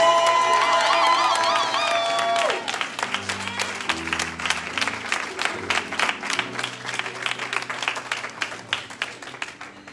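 A church congregation acclaims the Lord, first with high whoops and shouted voices, then with rhythmic clapping that pulses in a steady beat alongside cheering and low musical tones.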